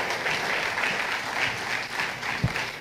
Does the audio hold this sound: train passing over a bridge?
no